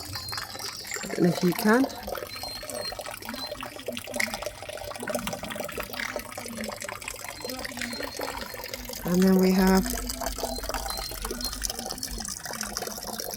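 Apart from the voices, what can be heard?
water running from a tap in a camper van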